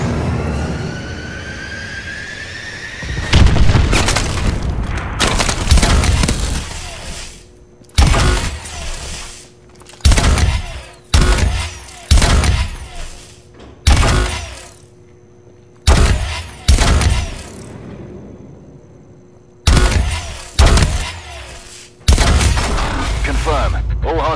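Missile strike explosions in Call of Duty Advanced Warfare, Exo Survival mode, boom in a rapid series of loud, sharp blasts with cracking debris, following an opening radio voice and short gaps between impacts.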